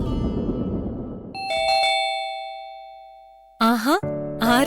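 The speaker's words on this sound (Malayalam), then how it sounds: "കോളിംഗ് ബെൽ അടിക്കും." A household calling bell rings with a clear ding-dong electronic chime over fading background noise, followed by a voice speaking loudly nearby.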